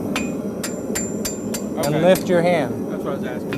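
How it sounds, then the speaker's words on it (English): A blacksmith's hammer strikes hot steel in a forging demonstration, bumping and bending the toe of a piece: about seven evenly spaced, ringing blows, close and clear, then someone talks over the fading work. "Overlap your hammer blow"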